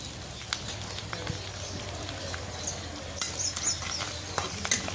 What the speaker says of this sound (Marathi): आता लसूण, कढीपत्ता हे सगळं व्यवस्थित तळलं आहे